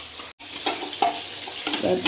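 Spicy chilli chicken stirred in a hot pan with soy sauce and vinegar, sizzling loudly up close while a utensil scrapes and stirs in short strokes.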